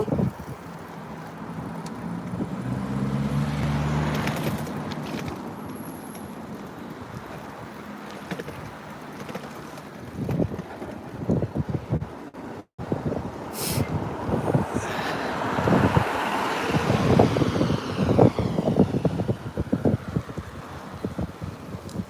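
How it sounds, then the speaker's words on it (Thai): Strong wind roars and buffets the microphone while someone cycles to work abroad, a continuous blustery rush with gusting surges and no talking. "ลมแรง"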